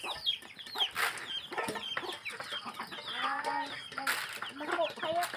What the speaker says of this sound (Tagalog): Muni iyang alagang mga manok guys.